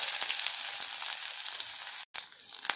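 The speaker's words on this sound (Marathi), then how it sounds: "इथे मध्यम आचेवरती आपल्याला हा कांदा फ्राय करून घ्यायचा आहे" Onion frying in hot oil on medium heat hisses with a steady, bright crackling sizzle that continues without pause apart from one brief cut near the end.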